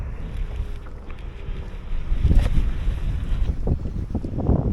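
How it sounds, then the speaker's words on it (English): A motorboat engine drones across open water on the River Odet as it tows a water skier, with steady wind buffeting the microphone and waves slapping nearby. "Someone water skiing."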